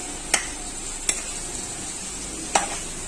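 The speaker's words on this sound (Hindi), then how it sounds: "अभी हम इसको आग पे भूनेंगे। भुनना शुरू हो चुका है।" Beef nihari with spices fries in a pot, giving a steady sizzle broken by three sharp scrapes of a spoon stirring, close and with no talk.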